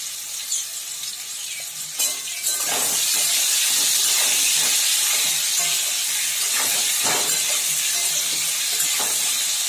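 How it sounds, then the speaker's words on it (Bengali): Potatoes frying in a pan hiss loudly and continuously, the sizzle surging after a couple of sharp knocks and staying strong, with intermittent scraping taps. "আলুটাকে ভাজা ভাজা করে নিচ্ছি।"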